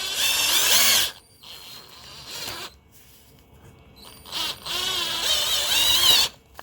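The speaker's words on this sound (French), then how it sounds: "une bonne technique pour virer les joints spi, c'est d'aller visser une vis dedans" A power screwdriver drives a screw into a car gearbox output shaft seal to pull it out, making two loud whirring bursts separated by a quieter pause with faint clicks.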